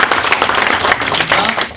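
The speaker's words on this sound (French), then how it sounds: "Donc je vous invite à applaudir mes collègues et surtout applaudir Nada." An audience at a conference on innovation management and start-ups claps for the panelists, a dense, lively burst of hand-claps filling the room for a couple of seconds.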